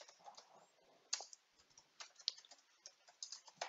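Quiet, irregular keystrokes on a computer keyboard, with a few sharper clicks in a steady run of typing and no voices.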